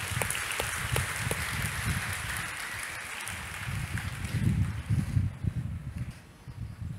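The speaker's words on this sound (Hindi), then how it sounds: "जोरदार ताली के साथ धन्यवाद करेंगे।" Congregation in a church clapping loudly and steadily, a dense wash of applause that holds for several seconds, swells briefly near the end, then thins out as it fades.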